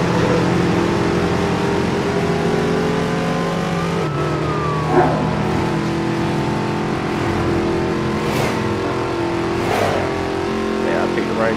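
A race car engine revs and accelerates in Midnight Club DUB Edition. The drone is steady and loud, with rising pitch sweeps as it shifts through gears and a couple of sharp whooshes, and voices can be heard underneath.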